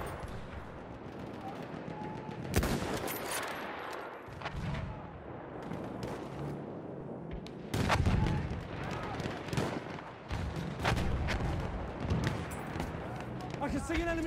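Battlefield 1 battlefield combat: repeated sharp gunshots and heavy blasts crack out over rumbling ambience, some bursts loud and close, others distant, with voices shouting in between.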